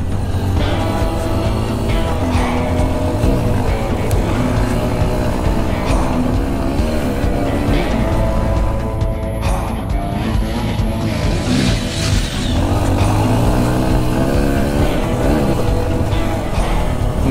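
Cheap Honda motorcycle lapping a sandy loop at a ranch, engine buzzing continuously and loud with rising and falling revs as it rounds the track, no talk.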